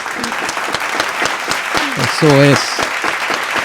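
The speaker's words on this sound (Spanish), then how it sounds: "recibimos con un fuerte aplauso a la pastora Nilda Calcaño" A church audience breaks into loud, dense applause welcoming a pastor, with rapid clapping throughout and a voice speaking briefly over it.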